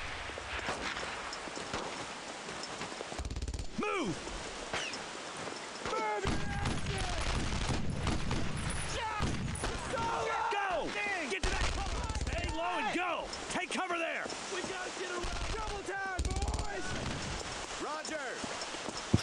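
Bursts of rifle and machine-gun fire in the World War II shooter Brothers in Arms: Road to Hill 30, with rapid volleys and scattered single shots over a busy battle bed, alongside chirping game effects and footsteps.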